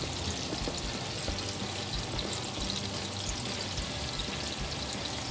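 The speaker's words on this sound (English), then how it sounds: "I'm gonna take my Brussels sprouts that are already blanched and pop them" Blanched Brussels sprouts tipped into a hot pan give a dense, steady sizzling rush, close and loud, with no talk.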